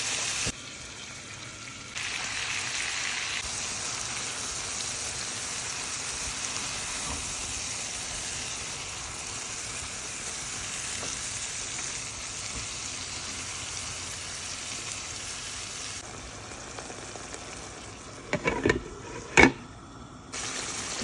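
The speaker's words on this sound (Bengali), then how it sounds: "এই যে চিংড়ি মাছ কষাই নিচ্ছি" Shrimp sautéing in a pan for a shapla and coconut-milk curry gives a steady, close broadband sizzle for about twenty seconds, ending with a few sharp clinks and clatters.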